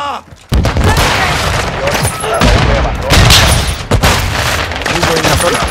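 Grenade blasts and gunfire in the Call of Duty: Modern Warfare II multiplayer map Dome, a loud, dense barrage of booms and shots running almost continuously, with a voice talking underneath.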